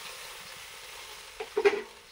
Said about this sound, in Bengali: মশলার সঙ্গে জল দিয়ে দিচ্ছি